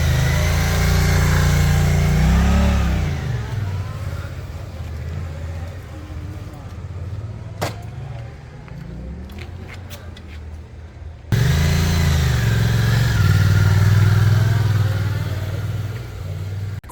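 Suzuki GSX-8R motorcycles rev loudly up close and pull away at a race event, engines rising and falling in pitch, fading out midway, then another bike roars back in near and strong.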